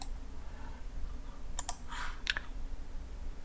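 A few quick keyboard clicks and key taps on a computer while renaming items in AutoCAD, clustered in a short burst midway, fairly faint over a steady low hum with no talking.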